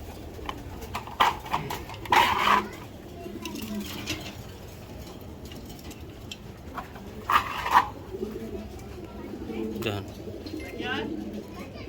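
A male Giribaz racing pigeon from 2023 coos in two soft bursts over a murmuring background, with people talking nearby at times.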